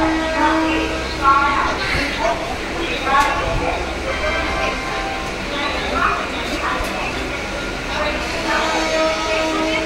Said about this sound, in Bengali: সিগন্যাল হয়ে গেছে, আমাদের ট্রেন দমদম ক্যান্টনমেন্ট থেকে ছাড়লো।